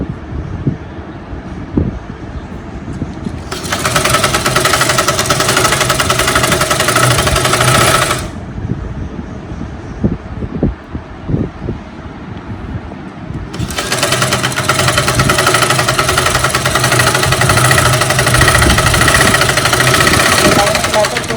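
A sewing machine stitches the lining cloth of a top in two long, loud, steady bursts of rapid mechanical whirring, separated by a quieter stretch of handling noise and soft clicks.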